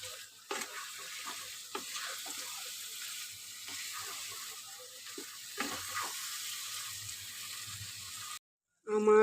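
Meat legs being sautéed in a pan, with a quiet, steady sizzle broken by occasional clicks and scrapes of the spatula, then a short gap and a brief louder burst at the end.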